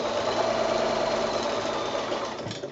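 A sewing machine runs steadily, stitching down the binding along a quilt edge, a continuous close whirring hum that slows and stops near the end.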